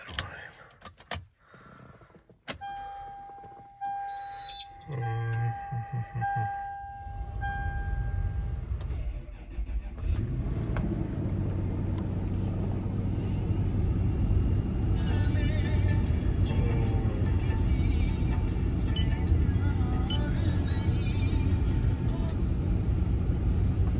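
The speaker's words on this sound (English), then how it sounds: "I'm about to start the car" Keys jingle and a few clicks, then a Toyota 2UZ-FE V8 engine turns over at about ten seconds and settles into a steady, loud idle that continues to the end.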